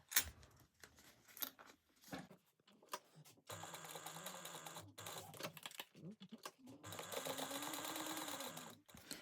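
A sewing machine top stitches around a bunny-shaped fabric bag in short, close bursts of rapid whirring, separated by pauses and handling noises, with a longer continuous run near the end.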